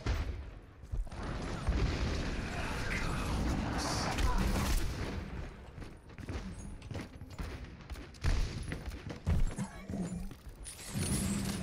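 Gunfire in the video game Overwatch comes as bursts of shots and booming explosions, loud and close amid chaotic in-game effects, while someone talks over the action.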